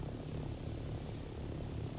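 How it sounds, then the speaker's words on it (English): Steady droning engine of a Thopter aircraft in a video game, a continuous low propeller-like hum holding even and close throughout with no voices. "I gotta refuel the Thopter."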